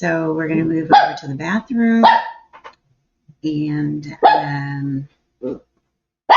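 A dog barks in a home during a house tour, loud and close, several barks in bursts while a person talks over and between them.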